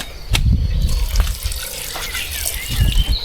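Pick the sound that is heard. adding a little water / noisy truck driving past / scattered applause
adding a little water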